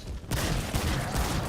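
Gunfire from the video game Remnant 2 sounds as a dense, loud burst of shots that carries on without a break for about a second and a half.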